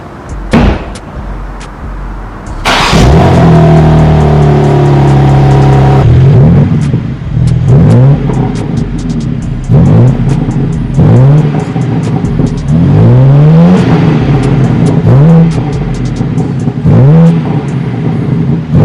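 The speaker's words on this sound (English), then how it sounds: "right now I want to give you guys some revs so you can hear how much of a beast this thing sounds" A $100,000 dream car starts with a door thud and an engine catch, then the engine settles into a loud idle and is blipped through several sharp, rising revs close up.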